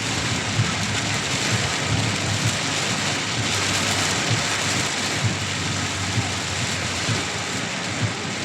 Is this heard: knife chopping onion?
no